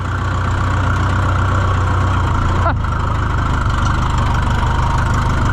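A vehicle engine lugs in too high a gear while driving through snow, a steady, deep, close drone with a faint knocking undertone and no voices.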